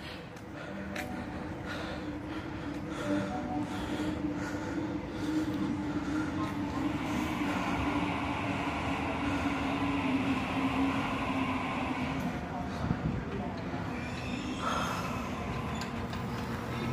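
A Sydney train at Liverpool station rumbles steadily and loudly throughout, with a sustained mechanical drone and rising whine midway, heard up close from the platform.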